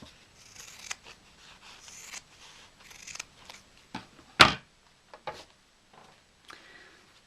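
Scissors make a series of small close snips on fabric, mostly soft, with one sharp louder cut in the middle, spaced irregularly over quiet background.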